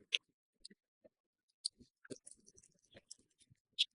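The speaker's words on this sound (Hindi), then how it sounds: "देखिए, जैसे ये अब मैं शफल कर रही हूँ इसको।" Tarot cards being shuffled by hand, giving sparse, quiet clicks and soft snaps of card edges at irregular intervals, close up with no talking.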